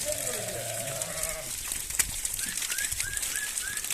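Sheep and goats at a livestock sale out in a desert pasture, with bleating under a man's speech, a long bleat early on and a run of short rising calls toward the end, fairly close.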